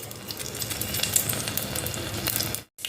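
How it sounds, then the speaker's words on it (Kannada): Mustard seeds spluttering in hot coconut oil for a Mangalore-style mackerel curry, a dense close sizzle with rapid crackling pops throughout, breaking off abruptly near the end. "ಎಣ್ಣೆ ಬಿಸಿ ಆದ ಮೇಲೆ ಸಾಸಿವೆ ಹಾಕಿಕೊಳ್ಳಿ"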